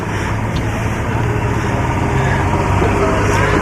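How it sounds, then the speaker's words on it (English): Old engines idling at an antique power auction in the Hudson Valley, a steady close mechanical drone with low throbbing, continuous and unbroken for the whole stretch. "Hoard of old engines."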